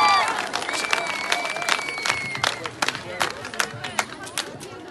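A crowd applauds at a girls' school results announcement for fourth and fifth grade, a steady patter of clapping with crowd chatter underneath, moderately near and gradually thinning.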